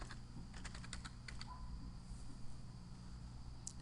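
Quiet clicking of a computer keyboard as a search is typed, a quick run of keystrokes in the first second and a half, then sparse taps, all faint over a steady room hum.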